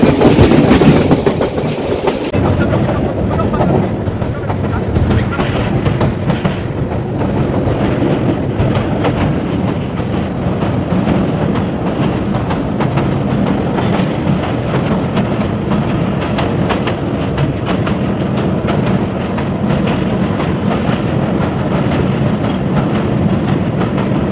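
The Jayantika Express passenger train on the Dhaka–Sylhet route rumbles steadily and loudly from on board, with continuous wheel and carriage noise and faint clickety-clack throughout.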